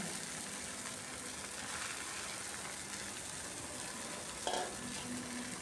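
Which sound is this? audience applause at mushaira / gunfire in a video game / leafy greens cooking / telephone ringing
leafy greens cooking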